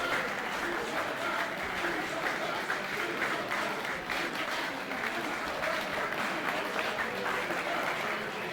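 A crowd at a live event breaks into sustained applause, dense and even, with clapping filling the room while voices carry faintly underneath.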